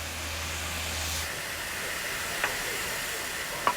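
Steam locomotive hissing at a Welsh heritage railway engine shed, a steady broad hiss with a low rumble fading out early and two brief sharp clanks near the end.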